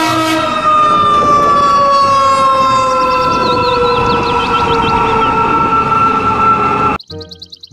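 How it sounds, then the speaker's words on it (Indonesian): A loud toy fire truck siren wails steadily with a long, warbling electronic tone, then cuts off abruptly near the end as a different toy sound begins. "Mobil truk pemadam kebakaran."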